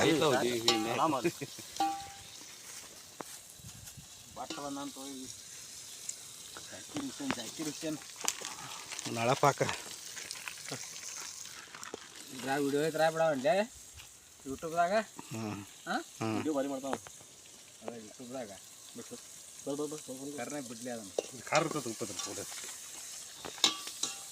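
Mutton curry ingredients fry in a pan with a steady background sizzle and occasional stirring scrapes, heard beneath frequent close conversation.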